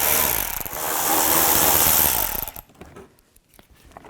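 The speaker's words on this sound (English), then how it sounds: "Use an 8mm socket. Take all these out." An 8mm socket on a power tool whirs loudly for about two seconds, removing screws from the shield of a 2003-10 BMW X3, then cuts off into faint clicks and handling noise.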